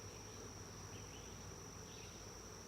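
Honey bees hum steadily around hives in an outdoor bee yard, a continuous insect buzz with no talk.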